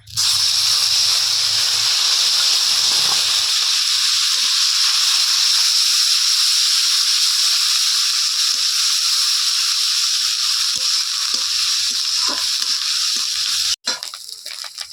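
Onion paste sizzles hard in hot oil with turmeric in a wok for fish curry, a loud steady frying hiss that runs unbroken, with a few faint clicks of stirring near the end.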